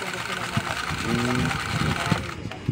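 A domestic sewing machine runs steadily on zigzag stitch, producing a close, even mechanical whirr with a regular needle rhythm. A voice is faintly present underneath.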